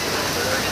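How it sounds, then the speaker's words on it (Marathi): Steady, dense rain hisses down on a college campus near the mess hall, a continuous close wash of drops with no clear voices. "हे बघा पाऊस"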